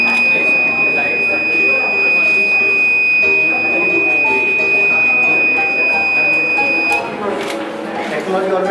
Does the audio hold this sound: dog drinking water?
no